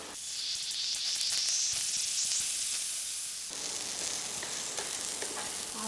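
Garlic browning with pork in a hot frying pan, a steady loud sizzle and crackling hiss of oil with occasional stirring scrapes, close and continuous, without talk.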